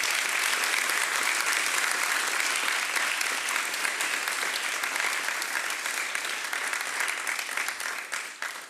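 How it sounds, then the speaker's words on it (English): A packed conference auditorium at PyCon Greece bursts into sustained, dense applause that holds steady for several seconds before gradually tapering off near the end. "please a big applause for them"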